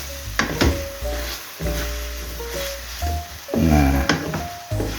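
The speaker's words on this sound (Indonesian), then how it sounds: "ini kita sangrai atau kita tumis lah" Ingredients for nasi goreng dry-roasted and stir-fried in a pan: a steady sizzle with repeated scraping and clattering strokes of the utensil against the pan, close and moderately loud, without speech.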